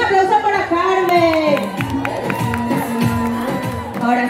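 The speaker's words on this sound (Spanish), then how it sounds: "Un aplauso para Carmen." Audience at a Deprati store event cheering and clapping for a participant named Carmen, a dense crowd roar with whoops and shouts mixed with scattered claps and an announcer's voice over the top.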